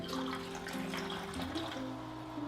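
Alkaline water at pH 9.5 pours into several containers, a faint steady splashing stream with shifting pitch as each one fills, without any speech.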